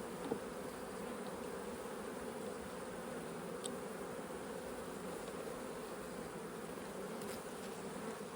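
A hive of honeybees buzzes in a constant, even hum during a check on queen acceptance, close and moderately loud, with a few faint clicks and no speech.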